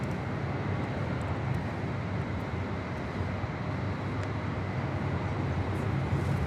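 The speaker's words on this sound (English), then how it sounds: "Is that the A380?" An Airbus A380 at Los Angeles International Airport produces a steady, low, broad jet rumble heard from a distance, continuous with no talking.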